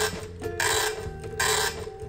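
A vintage SWTPC PR-40 40-column printer prints text, giving a steady mechanical chatter with two louder bursts of printing over a constant motor hum, close and alone.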